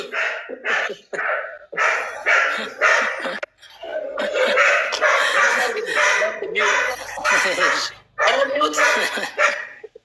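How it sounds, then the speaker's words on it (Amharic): Dogs bark in short, repeated bursts, mixed in with people talking close by, the barking and voices overlapping throughout. "ውሾቹ በጣም እየጮሁ ነው ድምጻቸው።"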